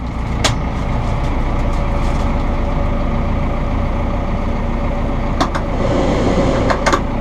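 A Massey Ferguson 6713 Global Series mid-range tractor's diesel engine runs with a loud, steady rumbling drone heard from the cab, with a few faint clicks and knocks over it.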